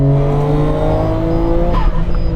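A Nissan GT-R R35 driven hard on a race track, its engine droning loud and close with steady harmonic whine and a brief shift in pitch near the end, no talking.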